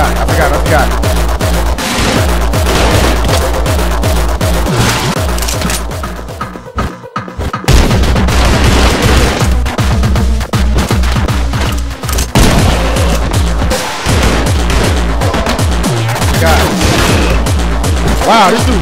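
Dense, loud video game gunfire with rapid bursts and heavy booming shots, going on almost without a break, dropping briefly partway through before starting up again, with voices mixed in beneath it.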